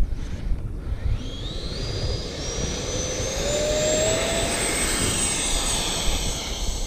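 E-flite F-16 80mm electric RC jet on a take-off attempt, its ducted fan spooling up into a loud, steadily rising whine that holds near and continuous throughout, with no talking.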